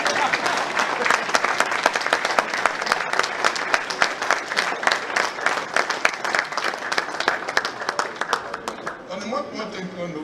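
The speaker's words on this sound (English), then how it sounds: "Give me a round of applause now." Applause from an audience at an architecture lecture in Lagos, steady dense clapping for about nine seconds that thins at the end as a voice begins speaking.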